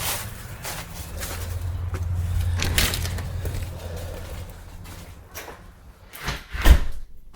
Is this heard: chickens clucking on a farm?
no